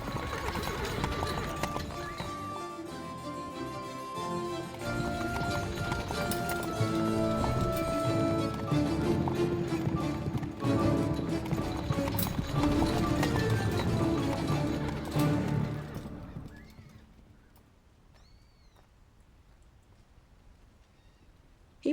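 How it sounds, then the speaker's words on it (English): Horses trot in a steady clip-clop of hooves, loud and close with a busy background and an occasional whinny, then fade to quieter ambience near the end. "The horses."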